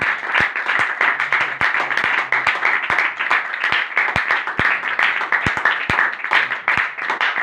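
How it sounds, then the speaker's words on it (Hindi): A church congregation claps in praise of Jesus Christ, producing a rhythmic, somewhat uneven pattern of hand claps with sharp individual slaps standing out over a rough, steady beat, fairly close and loud. "यीशु मसीह के लिए एक जोरदार ताली।"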